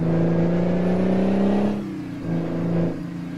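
A truck engine in the Euro Truck Simulator 2 video game drones with a loud, steady tone, then drops in pitch midway before swelling again, with no talk.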